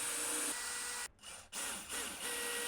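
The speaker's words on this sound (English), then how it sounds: "I'm going to screw them in" Power driver screwing wooden blocks from underneath into a glue-up form, a buzzing whir that cuts out briefly, resumes, then continues with a slight change in pitch, close and moderately loud.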